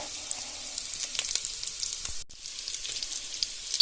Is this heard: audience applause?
no